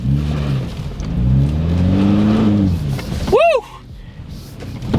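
A 2025 Toyota 4Runner hybrid accelerates hard, its engine note rising in a loud, sustained pull that swells for a few seconds before easing off, with a brief chirping sound near the end.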